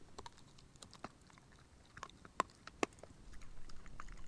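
A dog chews a stick right beside the camera at a rainy campsite, making faint, irregular crunches and gnawing clicks with a few sharper snaps over quiet background.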